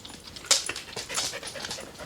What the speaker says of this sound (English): Back at his farmhouse with his dog Odie